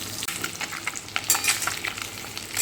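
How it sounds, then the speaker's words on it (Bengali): Eggs fry in oil that sizzles and crackles steadily in a pan with irregular spits and pops, moderately loud, no voices. "ডিমগুলো ভেজে তুলে নিই"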